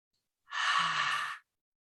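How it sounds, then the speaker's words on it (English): A group breathes out slowly and steadily through the mouth during a guided breathing exercise in a career-management talk, producing one soft, airy exhale of about a second that fades into silence. "breathe out through your mouth for 4 seconds"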